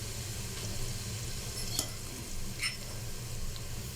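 Garlic and cumin seeds sizzle steadily in a pan with browned onions, a close, even frying hiss with a few light stirring clicks and scrapes, and no voice over it.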